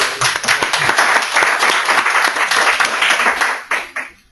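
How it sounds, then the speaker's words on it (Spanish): Audience applause after a talk at a coaching session: dense, loud clapping from a group that holds steady, then thins and dies away in the final second. "Un aplauso."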